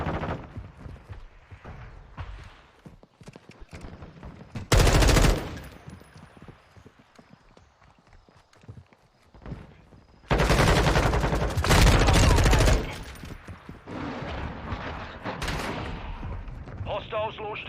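Gunfire in the video game Call of Duty: Modern Warfare 2, scattered single shots and loud bursts of automatic fire with heavy blasts, mixed with game effects and occasional voices.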